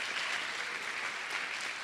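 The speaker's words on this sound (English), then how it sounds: "All right, let's applaud that one" An audience claps steadily at a community celebration event, a dense, even wash of applause that holds at full strength throughout with no voices on top.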